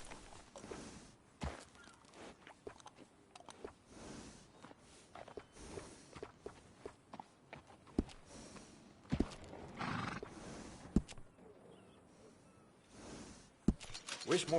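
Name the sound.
horse whinnying and hooves after grooming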